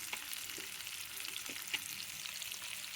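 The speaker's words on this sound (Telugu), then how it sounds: "ఇదే అండి, ఎర్రగా వేగిపోయినాయి రెండు వైపులా." Fish fries gently in a pan over low heat, a soft, steady sizzle with faint occasional pops, quiet and close with no talking.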